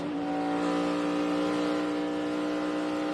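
A NASCAR race car accelerates on track at the 2011 Heluva Good! Sour Cream Dips 400, a loud, continuous engine roar with a steady pitch that carries through the whole moment.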